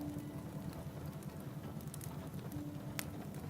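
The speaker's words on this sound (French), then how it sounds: "Et dehors, il commence à pleuvoir." Light spring rain falls outside in the countryside, a faint, soft, continuous patter with occasional slightly sharper drops and a low background hum.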